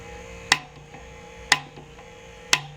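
A bullet feeder deadened with tape and cardboard runs with a low, steady mechanical hum, punctuated by three sharp clicks spaced about a second apart, fairly quiet overall.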